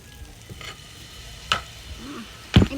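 Shrimp paste (bagoong) being sautéed in a pan, a soft steady sizzle punctuated by a few louder scraping stirs with a utensil, close and alone with no talking.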